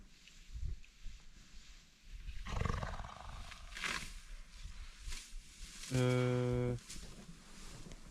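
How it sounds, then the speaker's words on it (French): A baby elephant breaks wind with a long, loud, buzzing rumble about a second long, heard up close against outdoor rustling and faint background noise in Kruger National Park, South Africa. "Il a pété. le petit éléphant."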